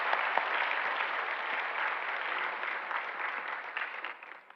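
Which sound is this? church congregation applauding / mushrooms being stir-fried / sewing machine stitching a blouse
church congregation applauding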